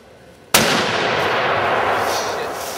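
One booming shot from a .470 Nitro Express rifle, a sudden loud crack followed by a long echoing roll that fades slowly, alone with no talk.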